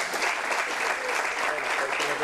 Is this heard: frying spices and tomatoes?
no